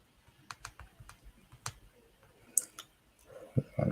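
Scattered keystrokes tap on a computer keyboard at a trading desk, soft irregular clicks in short bursts with quiet pauses, a few louder taps and light knocks toward the end.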